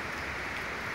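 Steady rain pours over a grape vineyard during a prolonged rainy season, a dense, even hiss of drops on leaves and ground with no pauses and no voices.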